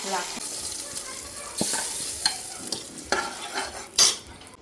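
Dal tadka sizzles in a pan with a soft crackling hiss, broken by sharp stirring clicks and scrapes of a spoon against metal.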